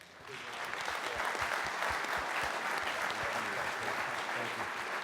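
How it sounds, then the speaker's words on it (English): An audience applauds a general after his talk, a dense, steady burst of clapping from a crowd that holds at even strength for several seconds. "please give General McMaster a big round of applause."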